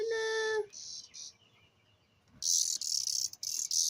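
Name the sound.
cicadas buzzing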